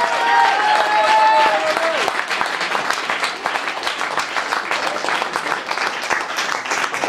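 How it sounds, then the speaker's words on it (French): A theatre audience applauding as a performer comes on stage, loud continuous clapping from a large crowd with a brief sustained tone at the start, steady throughout. "la tradition exige qu'on l'accueille par des applaudissements jusqu'à ce qu'il soit sur scène"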